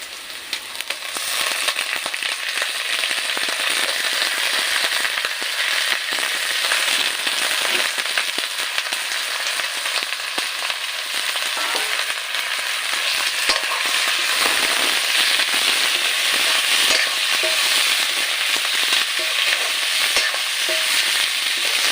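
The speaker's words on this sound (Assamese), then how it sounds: "পিঁয়াজখিনি ভাজা হ'ল, তো এটা মাংসখিনি দি দিলোঁ।" Broiler chicken meat hits onions already frying in a pan, giving a loud, steady sizzle and crackle that runs unbroken for about twenty seconds with occasional stirring scrapes.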